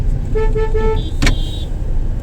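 Car horn honking repeatedly on a street in Unnao: a series of short toots followed by a longer blare, loud and close over steady road traffic.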